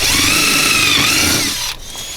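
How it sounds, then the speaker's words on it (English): A power drill fitted with a 3/16 inch bit drills pilot holes into a door's side profile, a loud steady high whine that holds, then cuts off near the end. "So first we'd use the 3/16 drill bit to drill the pilot holes into the side profile."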